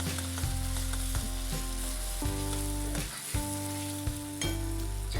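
Ginger-garlic paste frying with onions in hot oil for vada pav, a steady close sizzle with low-pitched stirring scrapes breaking through at intervals, no voices.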